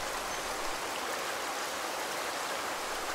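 The Kankakee River flows near Wilmington, Illinois, as a continuous, fairly loud rushing wash of moving water that holds steady throughout, with no voices over it.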